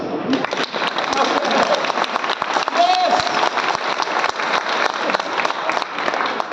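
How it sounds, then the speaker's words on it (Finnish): Audience applause at a live stand-up comedy show held in a car dealership, a dense burst of clapping from a crowd mixed with voices and a few whistles, continuous throughout. "Taputtakaa kaikki"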